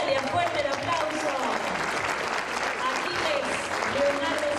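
Applause for a graduate at a university graduation ceremony, a sustained wash of many hands clapping in a large hall, with voices and cheers faintly mixed in.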